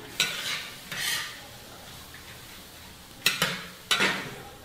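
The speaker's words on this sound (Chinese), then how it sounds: "用萝卜稍微炒软一下。" Radish pieces are stir-fried in a pan, with a soft background sizzle broken by four scraping stirs of a spatula against the pan.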